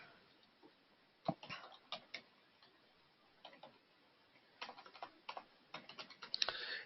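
Someone types on a computer keyboard while editing a shortcut, producing quiet, close key clicks in irregular bursts separated by short pauses, with a denser flurry toward the end.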